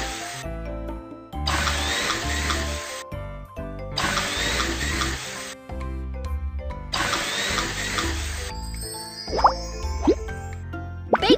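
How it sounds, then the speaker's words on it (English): Ice drilling in a cartoon kids' fishing game: three long bursts of whirring, buzzing drill noise with brief pauses between them, followed by a few short plopping and chiming effects near the end. "First, drill some holes on the ice!"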